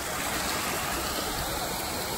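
A waterfall and stream flow on a pirate-themed mini-golf course, a steady, even rush of splashing water that continues without a break.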